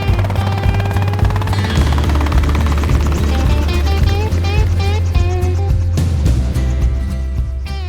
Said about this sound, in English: The chopper flies in, ready for another day in the paddocks.